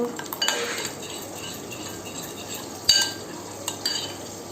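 A spoon stirs water into curd brinjal curry in a pot, making soft wet swishing with a couple of sharp metallic clinks against the pot rim, close and without talk.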